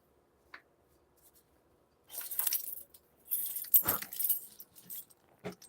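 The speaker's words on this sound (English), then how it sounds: "And these are my keys to my house." House keys jangling close by: a brief tiny clink, then two longer bursts of bright metallic rattling and a final short jingle, with quiet pauses between.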